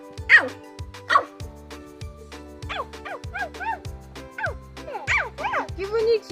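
A dog barks and yips repeatedly at close range in a forest setting, with a series of short high barks and whimpering sounds over a steady low hum.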